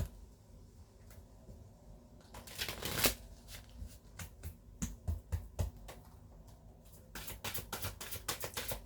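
Tarot-style cards handled and laid out for a card reading, with soft shuffling, riffles and a string of sharp close taps and slaps as cards are set down, fairly quiet overall.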